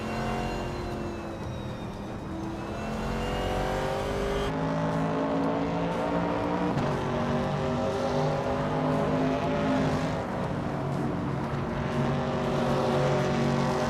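Racing car engines, including a 1970 Plymouth Barracuda, droning steadily in a racing video game, a continuous high revving whine with shifting pitch as cars pass, with no talk.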